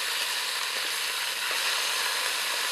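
Beef cubes searing and browning in a hot pan for an Irish stout beef stew, giving a steady, close sizzle and crackle of frying that holds level throughout with no talk.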